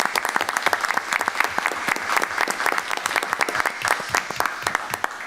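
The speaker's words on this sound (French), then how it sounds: "On vous applaudit." Dense, steady applause from a crowd at a municipal council meeting in Saint-Joseph-du-Lac, welcoming new firefighters to the fire service; many hands clap close and continuously for about five seconds with no talk over it.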